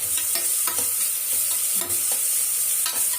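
Onions sauté in hot oil in a pan toward golden brown for a tomato rice, with a bright continuous sizzle and a spatula scraping and stirring in quick, uneven strokes close by.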